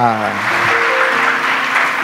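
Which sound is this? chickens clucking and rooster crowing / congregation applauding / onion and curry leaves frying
congregation applauding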